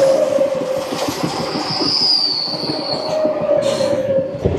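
An ICF-rake passenger train on the Paharia Express rumbles steadily along the track, heard from on board, with wheels squealing on the rails and a rhythmic clatter underneath.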